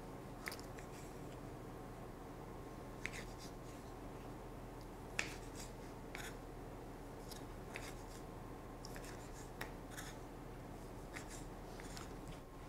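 Rinsed lemons being cut into quarters with a knife, a series of faint, crisp slicing clicks at irregular intervals over a quiet background with no talk.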